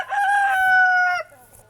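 A rooster crows once in a long, sustained call with a harmonic tone that holds steady and then breaks off sharply, with a quiet low hum underneath.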